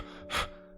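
A person imitates the heavy panting of exercise with a single sharp, breathy gasp, close and fairly quiet, with no talking.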